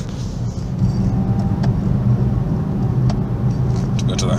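An Infiniti M56 coasting and slowing down on its own, with a steady low road and engine rumble inside the car and faint clicks and taps over it.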